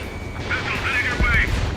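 A missile launch in the PS4 game Ace Combat 7: a broad, rumbling rush of jet and weapon noise that swells over under two seconds, with radio voices talking over it.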